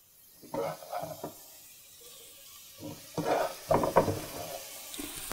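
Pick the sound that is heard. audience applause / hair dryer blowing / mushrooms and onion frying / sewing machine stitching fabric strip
mushrooms and onion frying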